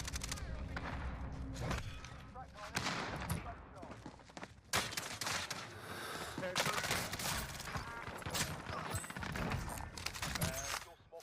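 Dense, rapid gunfire crackles through a Warzone Rebirth Island fight, with bursts of automatic fire, heavy shotgun blasts and thuds packed close together, and a voice talks over the shooting.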